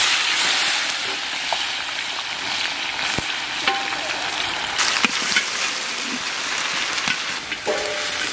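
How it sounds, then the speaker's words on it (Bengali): Onions frying in a pan with whole garam masala, coriander, cumin and bay leaf, a steady close crackling sizzle throughout with occasional faint stirring clicks, no voices. "পেঁয়াজটা সুন্দরভাবে ভাজা হয়ে গেছে"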